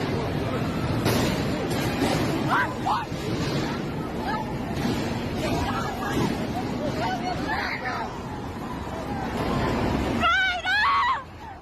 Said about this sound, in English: Panic sets in as screams erupt,